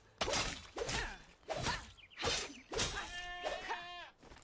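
Goats bleating in the video game Enshrouded, several loud, wavering bleats in close succession over about four seconds, with faint swooshing game sounds between them.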